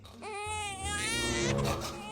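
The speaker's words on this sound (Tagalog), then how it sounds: "Kanina baby yun Ang ingay." An infant cries loudly and continuously for about two seconds, a high wavering wail that rises and falls, close to the microphone with no other sounds over it.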